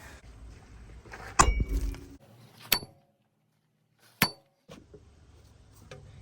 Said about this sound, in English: I usually start by smacking the hub really hard, trying to crack the bond between the knuckle and the plate and the wheel bearing